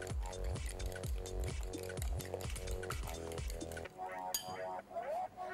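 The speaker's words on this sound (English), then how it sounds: "Now I'm going to whisk this up." A whisk beating a mixture with dried red chili seeds in a bowl gives quick, regular clinking strokes for several seconds, then stops, followed by a brief voice.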